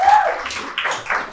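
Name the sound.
audience applause for a wine donor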